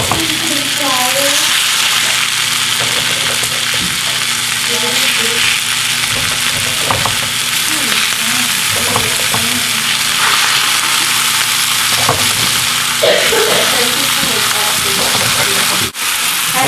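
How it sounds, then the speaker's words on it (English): Beef burgers fry with onions in a pan for homemade White Castle-style sliders, giving a loud, steady sizzle throughout with faint traces of a voice underneath. "it's time to put the burgers into the onions"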